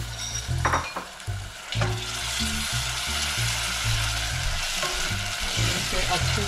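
Onion, garlic and ginger fry in a pan with a strong, steady sizzle, while low hums and a couple of light utensil knocks sit beneath it early on.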